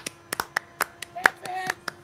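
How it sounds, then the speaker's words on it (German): Brief round of hand clapping for a racing stream's moderators, roughly a dozen sharp, separate claps at a quick uneven pace, close and dry, with faint tones ringing underneath. "Also, für die Mods mal kurz klatschen."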